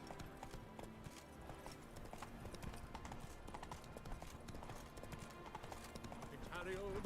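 A horse's hooves clip-clop in a steady gallop rhythm from the video game The Witcher, faint and continuous, under game voices and background sound, with a short whinny near the end.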